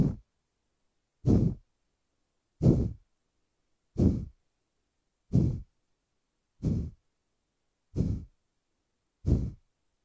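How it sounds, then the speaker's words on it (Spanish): Yoga breathing exercise heard as eight evenly spaced, forceful breaths, one roughly every 1.3 seconds, close and distinct with silence between them and no talking. "simplemente permites que el aire entre de manera natural en tus pulmones. Vamos a realizar aquí 20 repeticiones"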